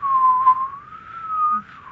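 A person whistles in imitation of a slide whistle, producing a single airy, gliding tone that wavers and bends up and down for about two seconds, close and fairly loud, with no other sounds.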